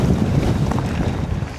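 A gust of wind buffets the microphone during a ride on an electric mountain bike, a loud, close, rumbling whoosh that fills the short clip without any voices.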